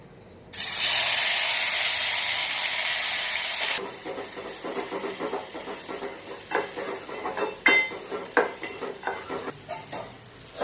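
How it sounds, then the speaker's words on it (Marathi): Masala for a mutton dish fries in two spoons of oil in a pot on a gas stove. A loud, dense sizzle bursts in first and then settles into softer crackling with scraping stirs and spattering pops. Nobody speaks. "आता मी गॅसवर पातेलं ठेवले, त्यावर 2 चमचे तेल टाकलेले आहे, त्यावर आपण तो मसाला आहे तो परतून घेऊया"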